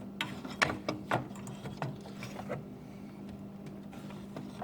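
Ratchet wrench clicking as a 15 mm bolt under a small pipe is undone on the thermostat housing of a Chevy Traverse engine; a handful of sharp close clicks over a steady low hum, then quieter ticking.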